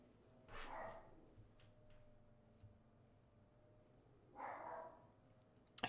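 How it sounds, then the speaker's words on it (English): Dogs barking at home in two short bursts several seconds apart, muffled and fairly distant, with a quiet room hum between them. "They're barking a lot, man."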